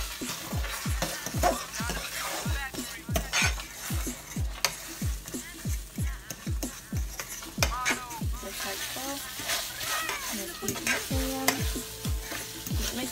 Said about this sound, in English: I'm just going to come over here to my eggs, and I'm just going to stir them up.